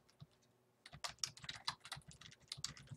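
Fingers type on a computer keyboard to enter a folder name, a quick run of close, crisp key clicks after a brief quiet start, finishing with a few more taps.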